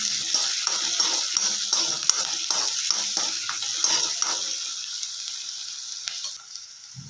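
Chopped onions hit hot oil in a pan while sabudana khichdi is cooked, a steady close sizzle and frying hiss with scraping stir sounds that fades near the end, with no talk.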